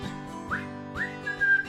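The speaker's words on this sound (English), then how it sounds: "So I whistle as I clean" A person whistles a short tune alone: a few clear rising notes, then a sustained held pitch, close and fairly soft over a faint steady hum.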